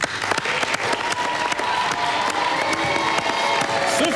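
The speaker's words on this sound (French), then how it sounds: "je vous demande d'applaudir comme il se doit l'arrivée de Sophie Talman." Audience in a French TV football show studio bursts into sustained applause with cheering and whoops, dense clapping running steadily throughout at a lively, fairly loud level.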